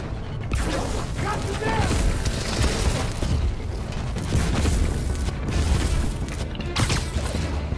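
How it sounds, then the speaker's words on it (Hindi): A drum explodes in the Spider-Man 2 video game, heavy booming blasts and crashing debris in a loud, continuous game soundscape, with a voice talking over it. "ओ ड्रम से उड़ा दिया स्पाइडरमैन ने"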